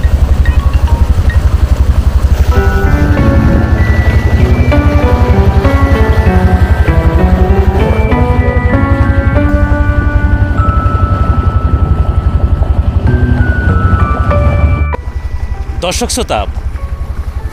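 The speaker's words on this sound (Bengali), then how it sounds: "এই অথই গভীর যমুনা নদীর বুক দিয়ে আমাদের এই নৌকা যাচ্ছে" A boat's engine drones loud and steady while crossing the deep Jamuna river, a close mechanical rumble throughout as someone talks over it in a musical, chant-like voice, ending in a brief gust of wind.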